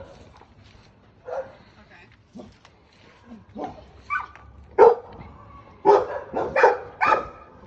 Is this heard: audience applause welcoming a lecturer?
no